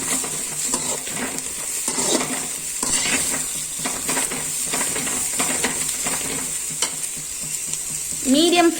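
Onions and bitter gourd sizzle in a hot pan while a spoon stirs and scrapes steadily, with occasional utensil clinks over a constant frying hiss.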